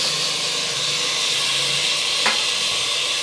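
Two sliced tomatoes go into a pan of browned onions, and a steady, close sizzling hiss fills the kitchen. A faint clink of a utensil sounds once.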